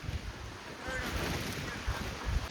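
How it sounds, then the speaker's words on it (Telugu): A waterfall at Matheran, where the falling water is blown back upward, gives a steady, broad roar mixed with gusting wind that buffets the microphone, with a few low thumps. "ఇదంతా వాటర్ ఫాల్స్."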